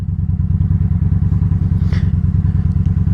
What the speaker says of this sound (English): I'm going to give it a little bit of gas. I'm going to roll on the gas. Hear that?